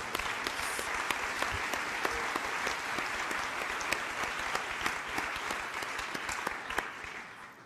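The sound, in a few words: audience applause for a birthday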